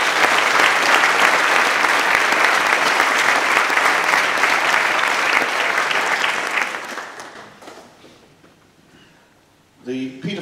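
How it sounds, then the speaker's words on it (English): An audience at a university physics prize-giving claps in a full, sustained round of applause that tapers off after several seconds, followed by a speaking voice at the close. "let's please give him a round of applause as well."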